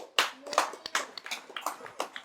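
A small group claps at a talk on spiritual ecology, a quick, uneven burst of individual hand claps, fairly faint and close, over about two seconds.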